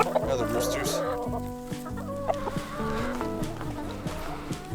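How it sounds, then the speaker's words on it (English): Roosters and chickens cluck steadily and fairly close, with overlapping bursts of calls forming a busy, continuous flock chatter throughout. "Over there are the roosters."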